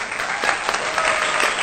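A short burst of crowd applause, dense clapping, steady and close for under two seconds.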